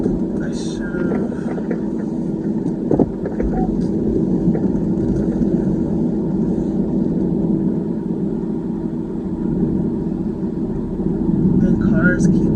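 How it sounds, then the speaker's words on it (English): Cars pass along a road where a vehicle is parked, giving a steady low engine and tyre rumble that runs throughout with a couple of swells, while a person talks over it. "And cars keep coming through here."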